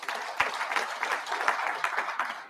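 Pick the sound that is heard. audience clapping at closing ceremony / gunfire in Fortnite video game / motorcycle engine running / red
audience clapping at closing ceremony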